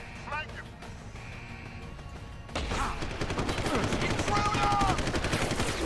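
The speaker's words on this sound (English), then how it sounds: "These are like some nasty shots here." Gunfire in the first-person game Deus Ex, a burst of rapid automatic shots layered with impacts, heard under excited streamer chatter and game noise.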